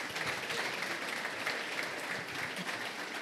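Steady, dense applause from an audience at a sports club's season launch event, with no individual claps standing out, continuing evenly throughout.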